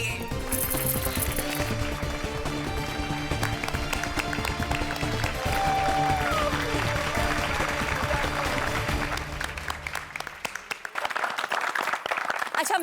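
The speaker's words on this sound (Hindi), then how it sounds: "एक बार जोरदार तालियां हो जाए गोकुल धाम सोसाइटी के लोगों के लिए" Gokuldham Society residents applaud loudly, a dense burst of clapping with music playing underneath that thins and fades toward the end.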